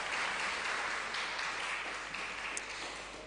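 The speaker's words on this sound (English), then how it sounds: "another round of applause for our young emerging leaders" Audience members at a commission of inquiry applaud young emerging leaders, making a steady, moderately distant wash of clapping that holds evenly and tapers slightly at the end.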